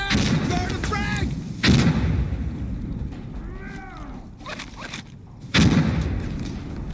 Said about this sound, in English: I'm gonna toss grenade over there